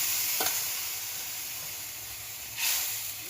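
Water is poured into sizzling fried spice paste with turmeric and fried lentils, giving a steady hiss of steam and frying, with a soft knock near the start and a fresh burst of sizzle toward the end.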